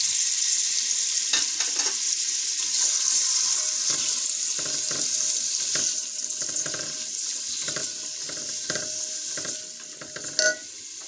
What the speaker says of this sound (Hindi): इसके साथ हम इसी घी में कैरेट को फ्राई करेंगे।